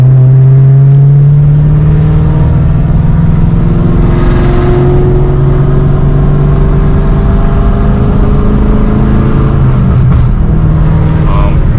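Cadillac CTS-V V1 with a BTR cam, its V8 exhaust idling with a steady low burble and occasional revs, fairly quiet and muffled like a factory system, with someone speaking over it.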